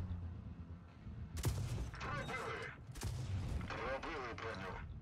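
Tank cannon shots in the game WoT Blitz, heavy game explosions with two loud bursts and rumbling debris, mid-distance, over a dense battle soundscape.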